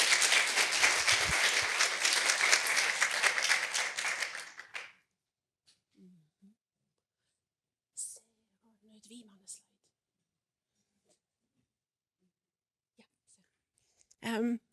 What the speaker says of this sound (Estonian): ja aplaus julgustamiseks